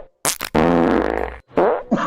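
A loud, buzzy fart stretches for close to a second, preceded by a couple of sharp short bursts and followed by another rasping burst, all close and with no talk over it.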